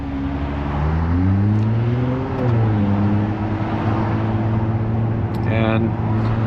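A 2025 Ferrari 296 GTB, rear-wheel drive, pulls away in first gear in automatic mode. The engine drones loudly from inside the cabin, its pitch rising and then settling as the car gathers speed.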